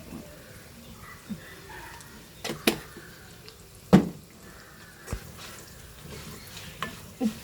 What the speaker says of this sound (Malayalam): തേങ്ങ വറുക്കുന്നു